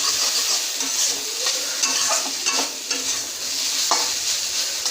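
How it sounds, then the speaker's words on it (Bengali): Kakrol (teasel gourd) sizzles steadily while frying in a pan, with repeated scraping strokes of stirring throughout, close and fairly loud with no voices. "দেখুন কত সুন্দর করে ভেজে নিচ্ছি।"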